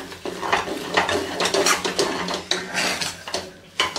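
Chopped coriander being mixed into cooked semolina in a kadhai, with repeated scraping and clinking of a spoon against the metal pan in an irregular rhythm, close and fairly loud.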